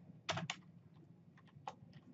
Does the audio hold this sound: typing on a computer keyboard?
yes